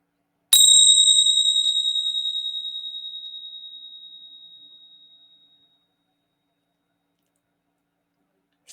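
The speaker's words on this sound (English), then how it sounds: "And in a moment, I'll ring my bell." A meditation bell is struck once at the close of a guided meditation, giving a clear bright ring that fades slowly over about five seconds into silence.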